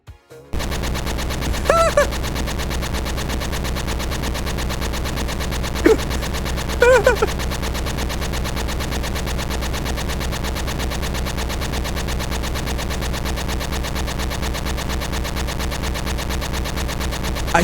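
Retro GB Studio game audio built from chiptune-style tones, with a steady buzzing machine-gun loop running throughout and a few brighter blips of sharper shots standing out around the middle.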